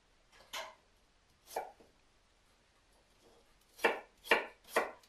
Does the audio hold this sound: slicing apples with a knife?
yes